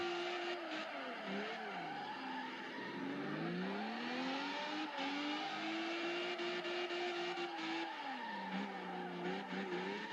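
A supercharged Lotus drift car in the racing game Assoluto Racing, its engine whining and rising and falling in pitch as it revs through a drift, with tire squeal, steady and close throughout.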